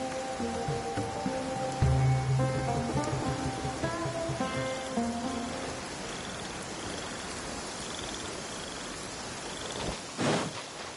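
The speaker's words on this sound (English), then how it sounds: "quite a downpour" Heavy rain in the open world game Genshin Impact, a steady wash of downpour under soft melodic background music, moderately loud and continuous, with no voices.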